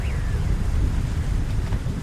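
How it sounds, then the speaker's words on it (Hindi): Heavy rain in a Hindi animated story pours down as a steady, dense wash of noise, loud and unbroken for the whole stretch with no voices over it. "अरे माँ जी, अंदर आइए, बाहर बहुत तेज बारिश है।"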